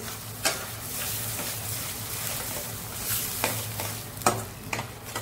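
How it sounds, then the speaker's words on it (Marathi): Ground masala paste is stirred into frying spices in a pan for a potato rassa bhaji, a continuous sizzle broken by several sharp spoon scrapes and knocks against the pan, close and fairly loud, with no talking. "आता हे वाटण यामध्ये मिक्स करून घेऊया मसाल्यांमध्ये।"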